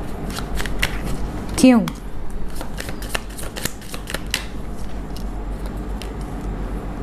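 Tarot cards shuffled for a reading, a rapid riffling flutter with a sharper bridge-like burst near the start, then ongoing card taps and slides close by while someone speaks briefly.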